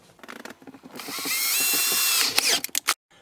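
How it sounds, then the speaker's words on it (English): A power drill with a 3/8-inch bit whines steadily for about a second and a half, pitch rising, then stutters in short bursts as it bites through a plastic console lid up close. "So we'll just take our 3/8 inch drill bit and drill through."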